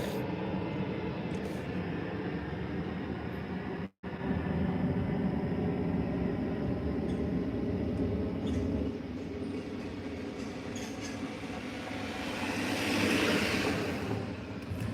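A video-game airplane drones steadily in flight, a continuous low engine rumble that holds for the whole stretch with one brief dropout and a slight swell near the end.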